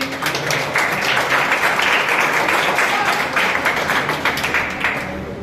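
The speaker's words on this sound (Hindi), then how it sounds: "जिसके लिए ताली लगाइएगा जी।" Class 10 students at a coaching class clap together in a steady, fairly close round of applause that fades slightly at the end.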